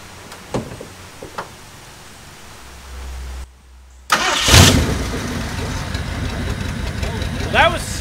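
A V8 engine in a Mercury Comet with a freshly rebuilt carburetor, stored for 31 years, cranks briefly, then catches and starts, settling into a loud, rough idle nearby while voices talk over it.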